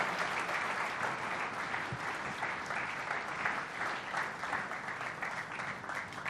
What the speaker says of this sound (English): Another round of applause for the visionary of the Platform Nigeria.